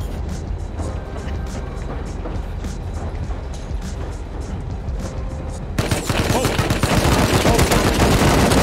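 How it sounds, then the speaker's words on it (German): Rapid bursts of gunfire ring out in the video game Rust, repeated sharp shots over a rumbling background that swell into a louder, denser volley near the end. "Oh, Schüsse!"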